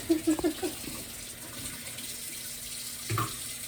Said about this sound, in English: usually always rinse your tools when you use them